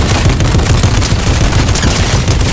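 Loud, dense gunfire and weapon blasts from a tank in the video game Fortnite, a continuous rapid barrage filling the whole stretch with no talk.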